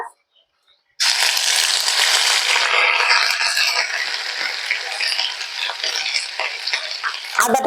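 Grated ginger drops into hot oil and whole spices in a pan and fries with a loud, continuous crackling sizzle that starts abruptly after a moment of silence, with light scraping and clinks near the end.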